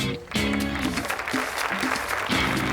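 Teammates applauding a departing player, a steady wash of close clapping that runs through the whole moment, with faint voices mixed underneath.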